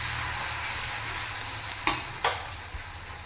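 A carrot and wheat dosa sizzles steadily on a hot pan just after being flipped, with a soft continuous hiss and a couple of brief scraping clicks from the spatula.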